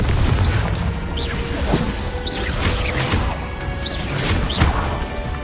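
Confringo blasting spells in Hogwarts Legacy, a run of loud fiery bursts and whooshing impacts layered over busy combat noise, with sharp booms recurring every second or so.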